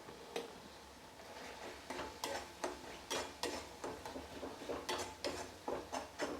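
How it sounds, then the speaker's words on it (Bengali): A spoon stirs dal and spinach with gram flour in a pot, quiet, fairly regular clicks and taps of metal on the pot's side, close by with no voice. "দিয়ে এটা ভালোভাবে আমি আবারও নেড়ে দিচ্ছি"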